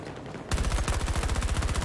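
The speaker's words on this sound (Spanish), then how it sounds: "Y él me mata de 2 disparos" Gunfire in Battlefield 2042, a loud close burst of rapid automatic shots after half a second of quieter background, the shots coming in a fast, even rhythm to the end.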